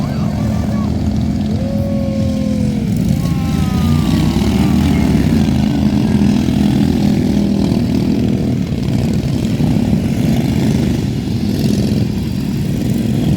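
A small recoil-start engine runs loudly and steadily with a buzzing, rattling drone; a few brief higher tones sweep over it early on.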